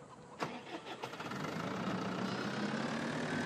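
Bobcat skid steer engine in Farming Simulator 2013, starting with a few sharp clanks before settling into a steady, moderately loud idle hum.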